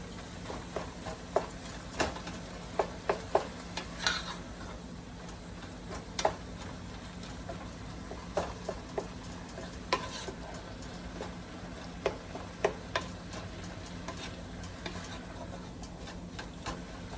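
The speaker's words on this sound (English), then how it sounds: "Okay, so you want to stir that through." Garlic and onions cook in a pan for Cajun dirty rice, with a continuous low sizzle broken by irregular taps and scrapes as a utensil stirs them, close and alone.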